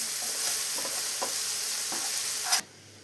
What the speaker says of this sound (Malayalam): ഇതൊന്ന് ഫ്രൈ ചെയ്തെടുക്കാം. വെണ്ടക്കായ എല്ലാം ഇപ്പോൾ ഫ്രൈ ആയി വന്നിട്ടുണ്ട്.